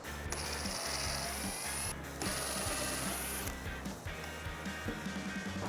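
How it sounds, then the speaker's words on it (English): An impact wrench fitted with a T20 Torx socket rattles in loud, close bursts while backing out the fog light bolts on a Jeep Wrangler JL, with brief pauses between runs. "I'm gonna use a Torx socket in my impact wrench."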